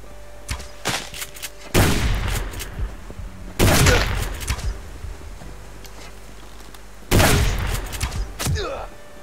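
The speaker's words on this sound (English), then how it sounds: "That shotgun is doing huge damage from that distance" Shotgun blasts in the survival video game Subsistence: three heavy booming shots spaced a couple of seconds apart, each with a ringing tail, interleaved with sharper lighter gunfire clicks.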